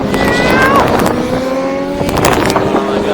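Superbikes racing past at Donington Park during a British Superbike race, engines howling loud and close with rising and falling pitch as several machines scream by in quick succession.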